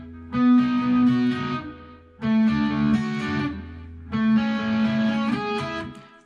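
Electric guitar lead part on Quad Cortex scene A: three similar phrases, each a bent, sustained note with light drive, separated by short pauses, close and alone.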